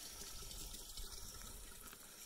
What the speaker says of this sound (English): Filling up our water here.